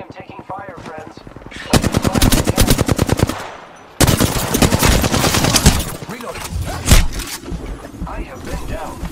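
Rapid automatic gunfire in Apex Legends, with a long loud burst of machine-gun shots and more dense shooting afterward, close and intense.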